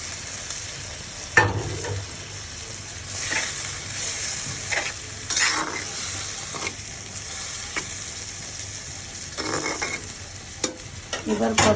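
Fried prawns go into a hot pan of frying food, setting off bursts of sizzling and stirring scrapes that swell and fade over a steady low crackle, close and moderately loud with no talk.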